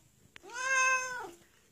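A cat gives a single clear, drawn-out meow of about a second, close and fairly quiet, during a sing-along of a children's song.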